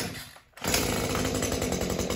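A KM94 combi engine on a lawn care tool, started with primer bulb and semi-automatic choke, catches after a brief dip and settles into a loud, steady buzzing idle close by.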